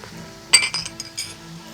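A metal spoon clinks sharply a few times against a pan while red chilli powder goes in during the cooking of aloo methi, a fenugreek and potato dish. The taps are bright and brief.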